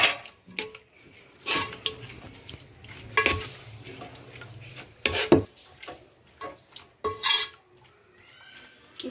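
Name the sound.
mixing chicken biryani ingredients with mint and coriander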